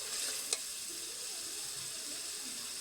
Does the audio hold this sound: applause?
no